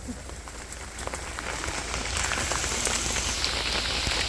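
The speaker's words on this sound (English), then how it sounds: "Yeah, it's raining pretty hard." Heavy rain falls in the forest at Sepilok, Malaysia, a steady dense hiss of drops drumming on leaves and surfaces, close and continuous and building slightly, with no voices.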